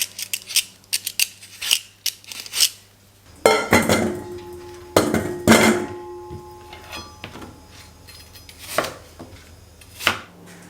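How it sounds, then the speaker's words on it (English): Apples being peeled and cut into small pieces, a series of close, crisp cutting clicks and knocks on a board, with a denser burst of cutting in the middle and scattered taps toward the end. "I'm gonna peel them and cut them into small pieces"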